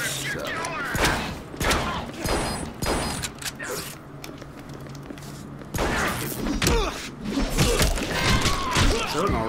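Machine gun and shotgun fire in the Deadpool video game: loud bursts and booming blasts with clanks and thuds, broken by brief lulls, while someone talks over the action.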